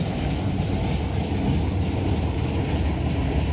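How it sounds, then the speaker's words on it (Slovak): A T458 freight locomotive, the museum-preserved Gorila type, is hauled around a railway turntable at the Rendez Bratislava rail gathering, giving a steady, loud mechanical rumble with a faint rolling clatter throughout and no voices. "No a ťahajú nákladný rušeň T458 1079 Hektor."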